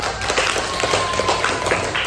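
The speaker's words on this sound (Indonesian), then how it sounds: "Kalau tidak ada pertanyaan kita kasih tepuk tangan." A classroom audience claps after a student presentation, a dense, even patter of many hands that holds at a steady level from start to finish.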